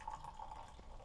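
Beer, a light-coloured sour that has sat open most of the day and may be undercarbonated, pouring into a glass; a brief, steady liquid trickle with faint dripping, heard alone.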